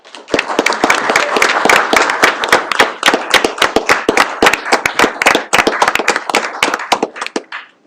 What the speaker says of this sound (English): Are we to clap at this?